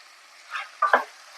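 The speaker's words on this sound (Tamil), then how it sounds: "இஞ்சி பூண்டோடைய பச்சை வாசனை போகிற வரைக்கும் ஒரு 2 நிமிஷம் வதக்கி விட்டுக்கோங்க" Country chicken sautéed with ginger garlic paste in a pan gives faint, short bursts of stirring and soft sizzling, two quick scrapes close together after a brief quiet.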